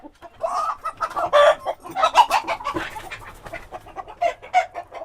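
Chickens cluck and squawk close by in overlapping bursts, busy and uneven, with a brief crow-like call among them.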